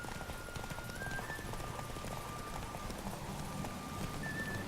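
Rapid, steady hoofbeats of a galloping horse in the PC video game The Witcher 3: Wild Hunt drum on without a break, with thin sustained electronic tones drifting above them.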